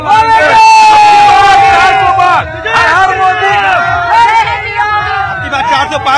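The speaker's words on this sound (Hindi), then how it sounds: "हजारों लाखों का भीड़ होगा।" A huge, loud crowd lining PM Modi's roadshow in Ayodhya, with people chanting and shouting in rhythmic calls and cheers, voices close and overlapping throughout.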